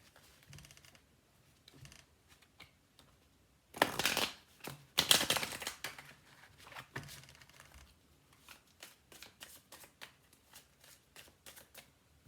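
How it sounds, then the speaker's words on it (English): Tarot cards are shuffled in quick crisp riffles and soft flicks, with a louder burst of rapid shuffling near the middle and scattered taps around it. "All right, let's have a quick shuffle."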